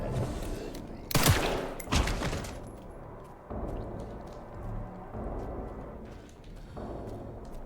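Gunfire in the Resident Evil Requiem video game, two sharp loud shots early on, then quieter background game noise with faint rattles.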